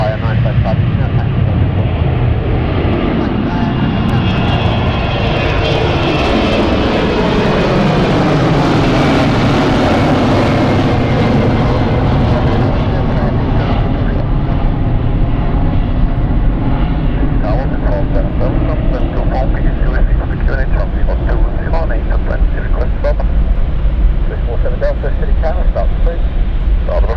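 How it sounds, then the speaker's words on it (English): An aircraft departing London City Airport on the Edinburgh flight thunders past, a loud, heavy engine roar with a rising and falling whine as it climbs away, sustained throughout. "That was our Edinburgh flight heading out."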